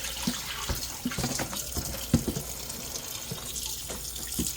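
Dye water being dumped out after tie-dyeing, a steady pouring and splashing wash of liquid into a sink with scattered sharper splats, fairly close and alone with no talk.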